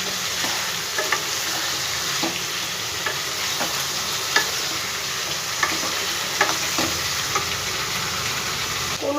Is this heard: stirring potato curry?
yes